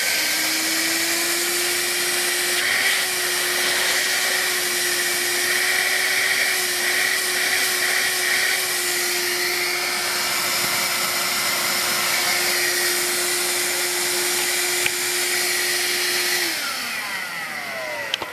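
A Vax Air Cordless Lift Duo U85-ACLG-B cordless upright vacuum cleaner runs in boost mode on hard floor, a loud steady motor whine held nearly unchanged for most of the stretch, then winding down near the end.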